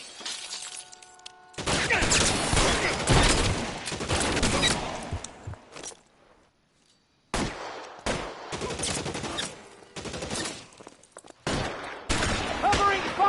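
Gunfire in the video game L.A. Noire: loud bursts of rapid shots and sharp cracks, a brief lull, then more clustered volleys, with shouted voices mixed in.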